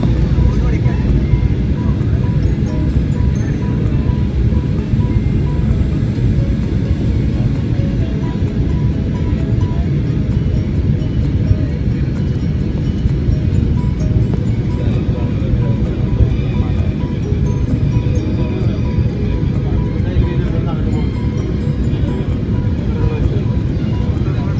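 A plane landing at Calicut Airport, heard from outside, gives a loud, steady roar of jet engine noise throughout, with voices talking faintly underneath.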